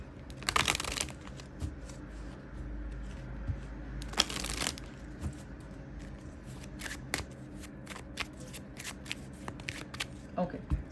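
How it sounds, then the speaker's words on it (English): A deck of tarot cards is shuffled, with crisp riffling bursts and soft flicking and rustling of cards close by, quiet overall with a few sharper riffles standing out. "Let me give a good shuffle."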